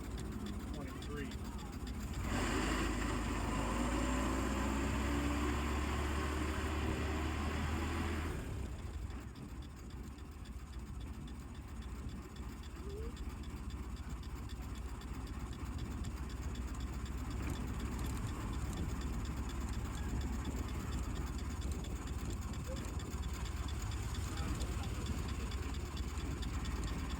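A 1914 Ford Model T engine hums low and steady while riding along at Greenfield Village, a quiet continuous drone with people talking over it.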